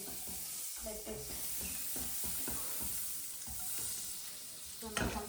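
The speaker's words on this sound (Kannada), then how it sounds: "ಸೊ ನಾನು ಕಂಪ್ಲೀಟ್ ಬಟರ್ ಹಾಕ್ತಿದ್ದೀನಿ ಇಲ್ಲಿ" Butter melting on a tawa heated over a low flame, giving a steady close sizzle and frying hiss with light scraping and stirring clatter, plus a sharper knock near the end.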